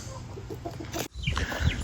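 Hens clucking close by in a short burst of low, choppy calls, with a brief rustle partway through; the birds are meat chickens.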